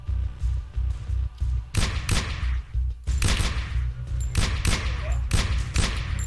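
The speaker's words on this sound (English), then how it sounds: "Stop shooting your friend." Gunfire in the indie video game Be Gone Ghosts comes in loud, close bursts of rapid shots with heavy thumps, repeating over several seconds with short pauses between volleys.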